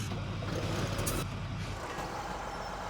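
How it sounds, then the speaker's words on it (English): A Ford F-250 pickup truck in Farming Simulator 17 makes a steady, fairly loud engine drone with a short hiss burst in the middle, heard alone without talk. "One Ford F-250 truck here."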